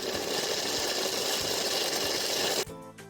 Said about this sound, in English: Now grind everything coarsely.